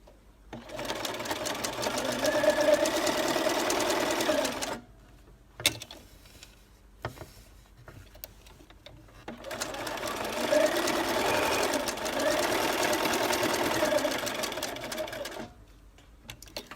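Sewing machine running steadily as it zigzags a dense satin stitch onto a lace scallop edge, two long sustained bursts of close, even whirring separated by a short pause with small clicks.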